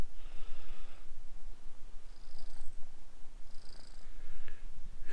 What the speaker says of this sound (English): She's purring away. Purring away.